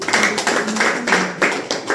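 Audience at a DXN company meeting clapping together in a brisk rhythmic beat, close and loud, with regular bursts of claps about every quarter second and no talking.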